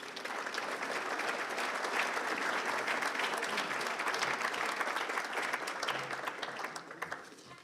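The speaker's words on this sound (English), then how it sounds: "Give yourselves a great round of applause." A crowd applauds at an annual business awards gala, a thick wash of clapping that holds steady and then thins toward the end, with no speech over it.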